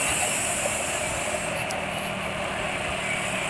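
An engine idles steadily at close range, a constant rough rumble and hum with no pauses or changes in pace.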